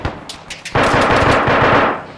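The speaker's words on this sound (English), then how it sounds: "that's a minigun?" A minigun fires in Arma III: a few scattered gunshots, then a loud, dense, continuous burst of rapid fire that runs steadily to the end.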